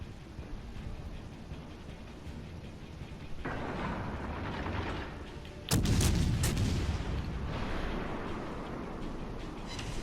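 Naval guns firing armor-piercing shells in World of Warships Legends: rumbling battle ambience with a heavy booming salvo midway, followed by lingering low thunderous rumble.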